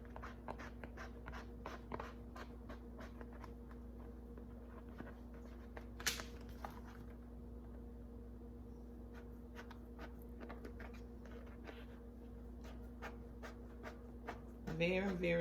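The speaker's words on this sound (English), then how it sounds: "you're just going to take your scissors and just cut along the lines" Small scissors snip paper along traced lines, a long run of short crisp cuts at a steady, fairly quick rhythm over a constant low hum, with a brief rustle midway and a louder handling noise at the very end.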